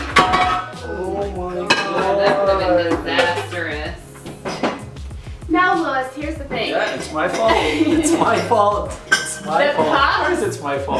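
Cups and plates clatter and clink in a kitchen cupboard as dishes are pulled out, with loud, repeated ceramic knocks under continuous talking voices.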